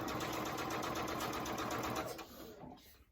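A sewing machine stitches chevron quilt pieces in a fast, even mechanical whir with rapid needle ticking, close and steady, then slows and stops near the end.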